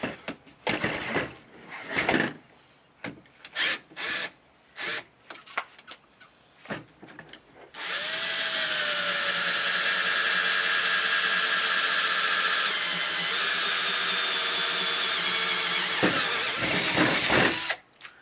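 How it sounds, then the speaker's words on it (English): Several short bursts of handling and clatter, then a power drill spins up and runs continuously for about ten seconds, loud and close, boring through a wooden table. "Drill through the table."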